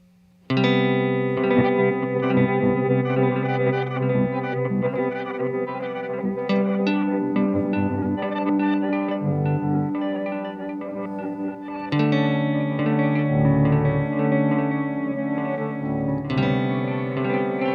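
A sustained, effected guitar-like tone through a granular delay pedal with pitch effect, smeared with delay and shimmering pitch-shifted layers, dense and continuous, swelling and repeating without any voices.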